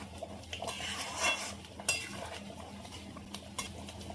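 A spoon scrapes and clinks against a pan while tomato, onion and green chilli fried in ghee are stirred together, irregular metallic taps and scrapes up close with no talk.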